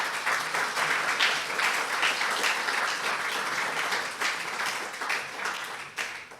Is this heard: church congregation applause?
yes